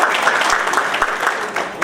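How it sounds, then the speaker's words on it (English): Audience applause at an immigration forum, a dense steady patter of many hands clapping at moderate loudness throughout, with no talk over it. "Can you clap hands for him, please?"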